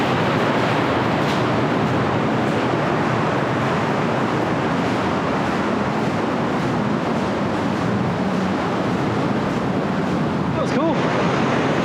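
Ocean surf surges loudly and continuously onto a beach on the NSW Central Coast, a big wave crashing close by in a roaring wash mixed with wind buffeting the microphone.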